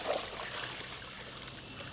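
Water runs steadily into a 10-litre paint bucket, a continuous close trickling pour lasting the whole moment with no talk over it.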